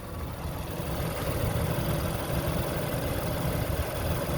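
A 2020 Honda Pilot Touring with all-wheel drive idles steadily, its engine giving a smooth, even, continuous rumble close by with no talking.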